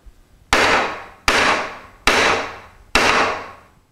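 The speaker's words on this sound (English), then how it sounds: "This is the way a carpenter would swing a hammer." A hammer swung with a full carpenter-style stroke strikes four times at an even, unhurried pace, each blow a loud, sharp crack with a short ringing decay, close by and with no voices.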